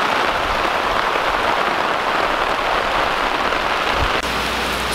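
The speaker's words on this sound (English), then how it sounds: "This is a light rain too." Light rain falling outdoors in a summer tomato garden, a steady dense hiss of drops on surfaces that holds evenly throughout with no voices.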